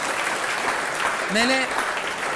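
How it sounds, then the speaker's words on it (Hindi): An audience claps loudly and steadily for a newly appointed forest officer, while a voice with rising pitch briefly calls out over the dense applause midway through. "एक बार जोरदार तालियां बजाएं"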